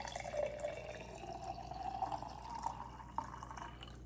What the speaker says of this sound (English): This is the warm water.